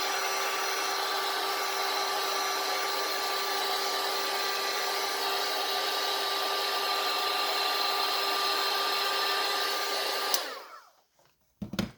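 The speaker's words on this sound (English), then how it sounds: "now we're going to use this heat tool again, and we're going to melt it." A heat tool blows a steady, whirring hot-air roar while melting embossing powder on a card, running for about ten seconds before clicking off into near silence and a faint handling sound.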